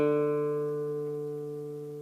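A steady, sustained tone from a pitch pipe rings with a guitar string while the guitar is being tuned, slowly fading, close and alone.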